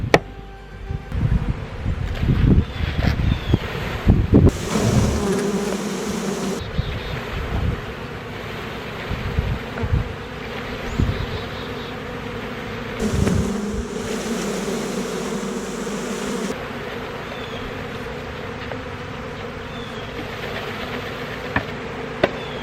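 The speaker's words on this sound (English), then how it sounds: "let's try to install these bees" Package honey bees are being installed into a Layens hive outdoors, and a dense, loud swarm buzz drones throughout. Clunks, knocks and handling noises from the hive work come and go beneath it, and wind rushes across the microphone.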